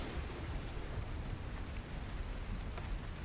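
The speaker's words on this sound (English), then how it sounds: "It's raining" Steady rain falls throughout a tabletop role-playing session, a dense, even hiss with low rumbling underneath, continuous and fairly loud with no clear talk over it.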